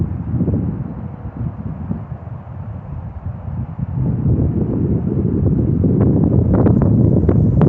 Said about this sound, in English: The wind is not making anything any easier.